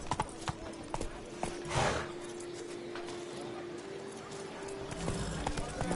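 Roach, the horse in the video game The Witcher 3, gallops with a quick, even clip-clop of hooves. The hoofbeats ride over a steady hum, with a louder swell partway through.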